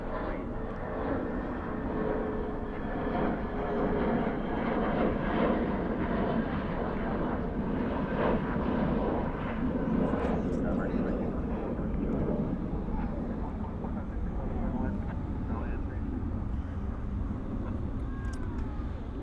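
Heavy jet airliner, flight 963, taking off at night from Dallas Fort Worth airport, a steady broadband engine roar holding loud and constant throughout.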